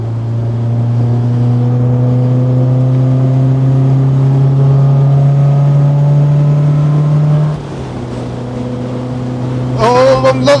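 A classic MGB sports car engine revs hard in fourth gear on the Castle Combe circuit during a track day, a loud, steady in-car drone climbing in pitch, then dropping briefly before building again with sharper mechanical noise at the end.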